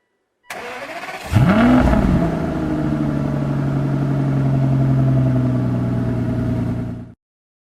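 An Aston Martin DB9 with a Velocity AP GT4 airbox delete on a dyno at a performance shop, cranking over and starting at about half a second, then revving up hard and holding a loud, steady high-rpm drone for several seconds before cutting off.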